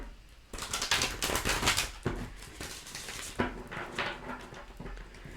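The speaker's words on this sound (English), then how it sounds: "The way that I'm shuffling, they feel almost like they are getting stuck." Tarot cards being shuffled by hand, a steady run of crisp riffling and papery flicks with sharper snaps at moments, close and fairly loud with no talking.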